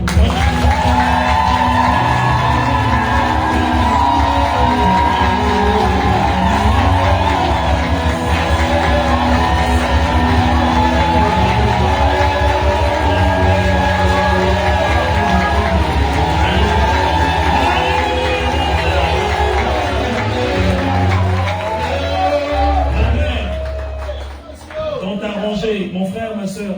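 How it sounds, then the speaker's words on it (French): A church congregation cheering loudly for about ten seconds: a dense, sustained roar of shouts, whoops and yells with applause mixed in, fading near the end. "Quand je te donne le go, 10 secondes, mais de vives acclamations."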